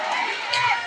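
A church congregation at a Sunday service breaks into a short, loud burst of crowd noise, cheers and voices mixed with clapping in a dense, close wash.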